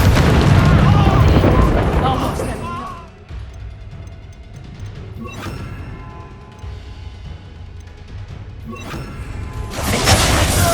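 Explosive spells such as Expulso, Glacis and Bombarda go off in the video game Hogwarts Legacy. A loud booming blast opens the stretch, more thuds and crashes follow, and a final burst comes near the end, mixed with game voices.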